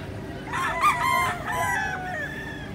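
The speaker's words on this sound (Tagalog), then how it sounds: "Mga manok." A rooster crows once in a long, wavering call over steady background noise, with faint farmyard murmur around it.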